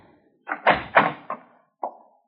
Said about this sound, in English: Open your cabin door, please.